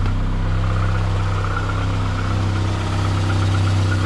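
A Saab 900 car engine runs steadily as the car backs out over muddy ground, a close, loud, continuous low hum and rumble with no voices.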